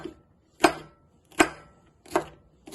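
A knife chopping through cucumbers on a board, four crisp, evenly spaced thuds about three-quarters of a second apart, close and fairly loud, with quiet gaps between cuts and no talking.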